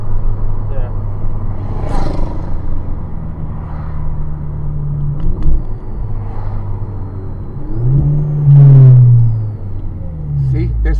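A modified car's engine revs up sharply on downshifts, rising and falling in loud surges over a steady rumble, with one strong rev near the end; someone talks over it.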